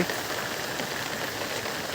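Steady rain pours down in a village, a dense, even hiss of drops on surfaces that fills the moment without a break.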